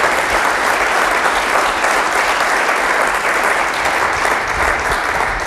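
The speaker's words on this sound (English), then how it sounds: "a big applause for him" Loud, sustained applause from a conference audience at a Drupal camp follows a talk, many hands clapping in a thick, even wash that holds steady throughout.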